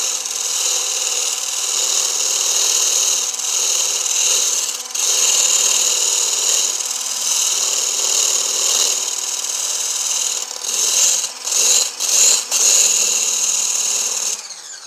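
A stick blender whips plain egg whites into froth, a steady high-pitched motor whine running close and loud throughout, with brief dips near the end as the blade shifts in the bowl.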